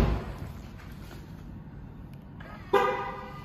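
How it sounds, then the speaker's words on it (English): Single brief horn chirp from a 2020 Tesla Model 3 Dual Motor Long Range as it locks, sounding suddenly near the end after a quiet, steady background hum. "Locks the car, wing mirrors fold in"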